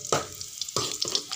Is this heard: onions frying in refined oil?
yes